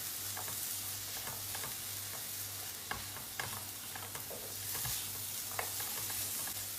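Carrots are stirred in a frying pan as spices are added, with a soft continuous sizzle broken by scraping stirs and light clicks of the utensil.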